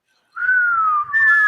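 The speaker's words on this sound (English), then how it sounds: "My whistle didn't work." A whistle blown in a sports talk show setting gives one sustained, clear, steady tone lasting over a second, with a brief dip partway before it resumes slightly higher and continues to the end. It sounds loud and close, with no talk.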